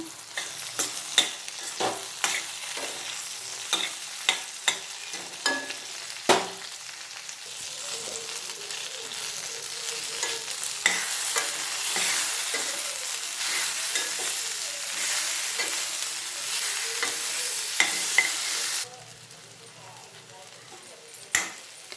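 Eggplant and green chili chutney with tamarind is stirred in a frying pan, with repeated clicking scrapes of the spoon over a continuous sizzle. The sizzle swells through the middle, then drops away sharply near the end.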